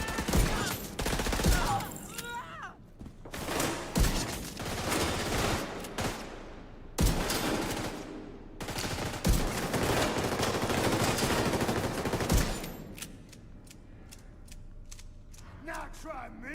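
Repeated bursts of automatic gunfire from The Division 2 video game, loud and dense with brief pauses between volleys, under occasional talk.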